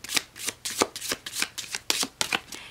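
Affirmation cards from a Magical Times Empowerment deck being shuffled by hand, a rapid run of soft riffling bursts close up with no talking.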